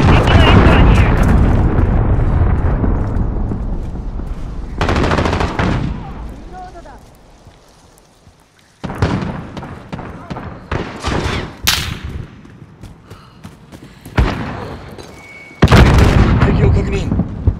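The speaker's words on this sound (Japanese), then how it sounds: "巡航ミサイルを発射した。" A cruise missile launch in Call of Duty: Modern Warfare, heard as a sustained heavy roar followed by a run of loud booming explosions and rumbling blasts, close and powerful, with short gaps between bursts.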